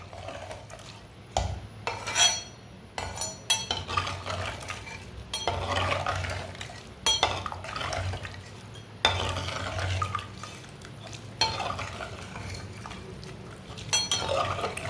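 A spoon stirs soaked rice into mutton pulao in a pot, with repeated scraping and clinking bursts of metal against the pot over soft bubbling liquid, close and fairly quiet.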